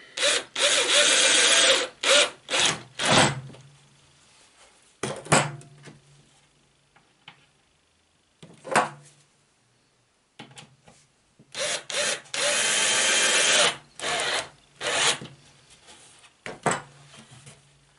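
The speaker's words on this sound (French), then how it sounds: "une fois percé, on peut venir visser tranquillement. Le bois ne pètera pas." A power drill boring into and driving screws through the wooden frame cover for a Dadant 10-frame beehive, several loud whirring bursts separated by short pauses, with brief lower-pitched screwing runs and knocks.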